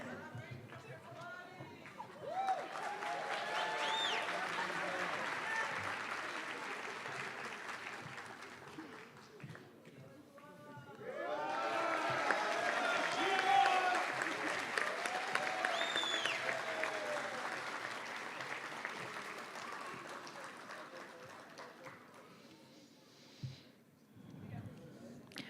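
An audience applauds the drawing prize winners at a writing and drawing award ceremony, with two long swells of clapping and cheering separated by a brief lull, plus crowd chatter and cries over the applause.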